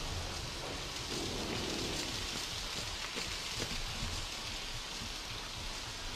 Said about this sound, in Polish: Przez ten deszcz go nie słyszę.